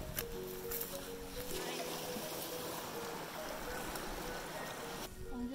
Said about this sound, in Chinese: 看到小溪了。